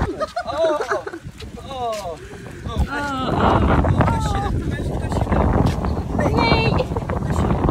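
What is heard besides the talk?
strong wind on the microphone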